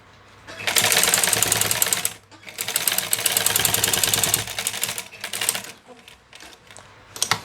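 A black sewing machine stitches denim jeans in loud, rapid mechanical bursts: a long run, a brief pause, another long run, then shorter stop-start stitches near the end.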